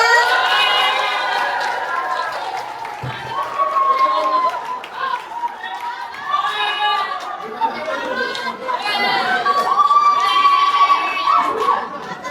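Supporters of candidate 02 at a school student-council debate keep up loud, continuous cheering and shouting, many young voices overlapping in waves with whoops and yells throughout.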